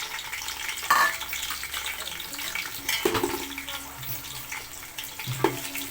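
Onions frying in oil with spices for a May Day biryani, a steady sizzle with occasional stirring clanks of a utensil against the pot, a voice speaking briefly over it.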